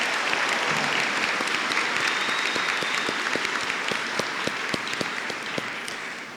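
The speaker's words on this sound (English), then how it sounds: "Give another round of applause for Lotus." Audience applause at a 2025 graduation ceremony for Odyssey Charter Jr/Sr High, a dense, steady wash of many hands clapping that carries on throughout and thins slightly toward the end.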